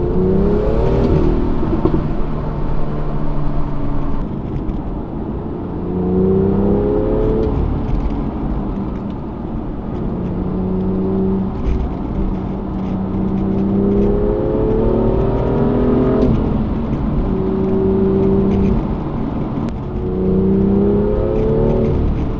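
A BMW M2 with the N55 engine and stock exhaust, driven through town and at speed, its engine drone rising and falling through repeated revving accelerations and gear changes, loud and close from inside the cabin with no talking.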